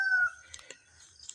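A rooster gives a short, clear crow up close on a chicken farm, followed by faint scattered clucks and rustling in otherwise quiet surroundings.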